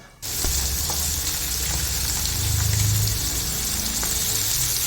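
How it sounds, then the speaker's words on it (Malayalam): Sardine pieces frying in hot oil in a pan, a dense, continuous sizzle that starts abruptly and stays loud and close throughout, with light crackles and a low rumble underneath. "അത് എണ്ണ ചൂടായതിന് ശേഷം മീൻ കഷ്ണങ്ങൾ നിരത്തി വെക്കുക."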